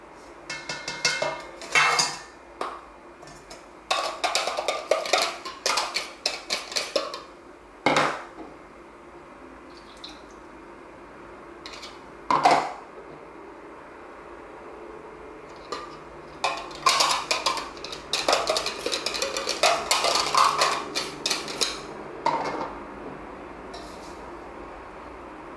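A whisk clatters against a bowl while egg tart filling of cream, milk and sugar is stirred, with irregular bursts of clinking and scraping separated by quiet pauses.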